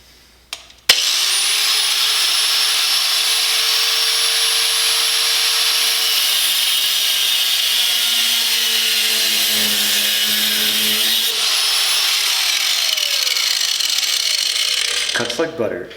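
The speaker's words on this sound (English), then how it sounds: "we're going to use our angle grinder to cut these brackets down to the right size." Angle grinder cutting metal fog lamp brackets for a Hella 500 install on a Mercedes, one long continuous high-pitched whining cut that starts abruptly and stops near the end.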